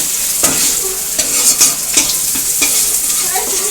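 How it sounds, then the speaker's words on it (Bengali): Onions sizzle steadily in a pan while a spatula stirs and scrapes at intervals, close and fairly loud, no speech. "তো এখানে পেঁয়াজটা ভাজা ভাজা করে নিচ্ছে"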